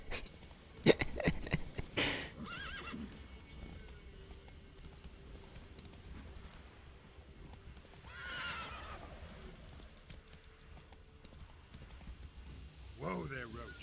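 Hoofbeats of the horse Roach in The Witcher 3 game: a few sharp clip-clops early, then a whinny mid-clip and another near the end, over a low ambient bed with faint game sounds.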